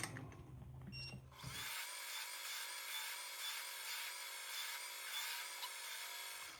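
A lathe facing off steel stock spins steadily with a bright, whining metallic cut ringing with harmonics, loud and continuous after a brief start-up.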